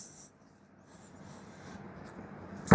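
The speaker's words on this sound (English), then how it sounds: "So now I'm sitting here drawing it out" Hand drawing a truck lettering design, with quiet scratchy strokes of a drawing tool on a surface, faint and close, growing slightly busier before a brief louder knock at the end.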